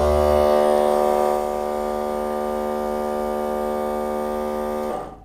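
A 12V GOOD PUMP water pump for watering plants runs with a steady electric hum and whine, loud and close, for about five seconds before cutting off.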